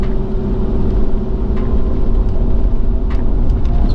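A Toyota Sequoia re-geared with 5.29 ratios pulls away with a loud, steady low engine drone, heard from inside the cabin as it accelerates.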